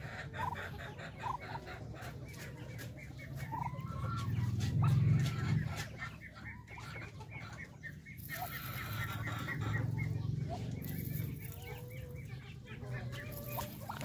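Native Darag hens cluck softly and steadily on a small chicken farm, with scattered fowl calls and light clicking noises over a constant low rumble, and no speech.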